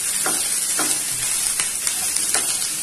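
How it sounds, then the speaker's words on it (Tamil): Onions and mixed vegetables stir-fry in a pan, a steady close sizzle broken by a few scraping strokes of a spatula every half second or so, with no voices. "வெங்காயத்தை சேர்த்து நல்லா மிக்ஸ் பண்ணி விட்டுருங்க"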